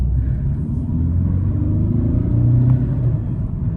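A 2012 VW Golf TDI with a manual gearbox pulls away under its diesel engine, giving a loud, low rumbling drone that swells gradually from inside the cabin.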